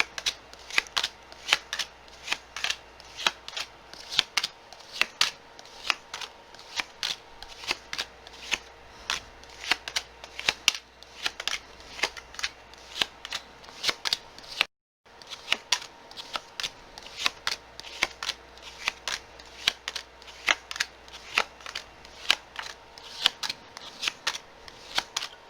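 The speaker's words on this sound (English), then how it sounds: "cards are on the table, Leo" Tarot cards are shuffled close and loud in a long series of crisp, rhythmic riffles and snaps, broken by one brief pause midway, with no talking.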